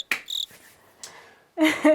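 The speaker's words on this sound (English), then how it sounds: "I heard crickets the whole darn time this thing was going on" Chirping crickets used as a comic sound effect, a few bright, rapid chirp bursts separated by short quiet gaps, fairly loud and close.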